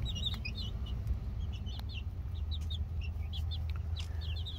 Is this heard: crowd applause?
no